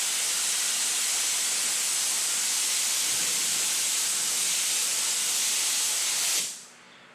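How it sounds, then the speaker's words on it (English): An HVLP paint spray gun hisses in one continuous, steady blast of air and mist while coating a full panel, then cuts off abruptly near the end, leaving quiet room tone. "just go ahead and spray this full panel with one coat"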